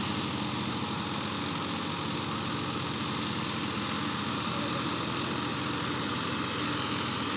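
A Massey Ferguson 1035 tractor stuck in mud with a loaded trolley runs its engine in a steady, close, continuous drone that holds unchanged throughout, with no voices.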